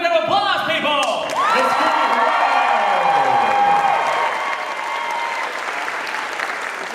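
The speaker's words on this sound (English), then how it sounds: "Another big round of applause, people!" Audience applause and cheering at a cosplay contest, a dense, steady wash of clapping with some voices mixed in, loud and continuous throughout before easing slightly near the end.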